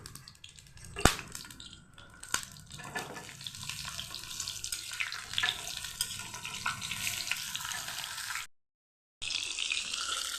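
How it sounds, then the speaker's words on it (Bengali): Pieces of pointed gourd (potol) frying in hot oil in a kadai, a continuous close sizzle with occasional sharp clinks and taps, a short silent gap near the end. "এখন আমি তেলটার মধ্যে পটলগুলি ভেজে নেব।"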